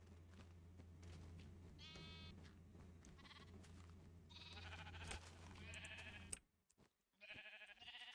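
Minecraft sheep bleating several times over a steady low in-game hum and background game music, with short cries near 2 s, 3 s and 5–6 s, then a brief silence and one more bleat near the end.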